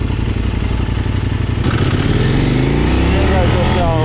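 A KOVE 800X adventure motorcycle engine runs during a test ride, holding a loud, continuous throbbing drone that rises in pitch partway through as the throttle opens, with a rider talking over it.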